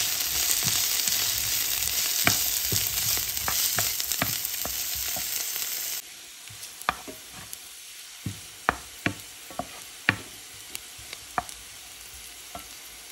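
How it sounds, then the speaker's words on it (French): Chopped onion frying in a pan until golden: a dense, steady sizzle fills the first half, then settles into a quieter crackle punctuated by sharp utensil clicks and scrapes against the pan. "le cuire à la poêle jusqu'à ce qu'il soit bien doré"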